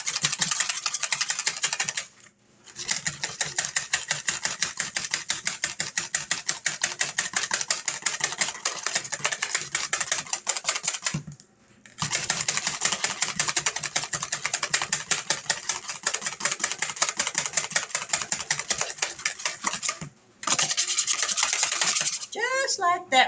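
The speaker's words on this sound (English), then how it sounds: "we're going to whisk this up till it starts to get frothy" A whisk beating an egg mixture in a bowl until frothy: rapid, steady scratchy strokes running continuously, broken by three brief pauses, close and fairly loud with no talking.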